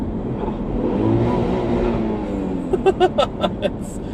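A Volvo B235 engine idles with a steady low drone, then several sharp revs climb quickly and bounce off a 7,000 RPM limiter in rapid bursts, close and loud, through the stock exhaust.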